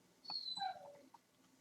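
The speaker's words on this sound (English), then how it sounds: "one of my girlfriend's dogs is whining in the background" An indoor dog whines in a single high, thin drawn-out cry that slides downward, quiet and somewhat distant, followed by a faint short whimper.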